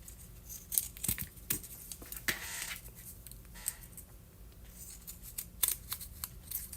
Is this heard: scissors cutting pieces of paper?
yes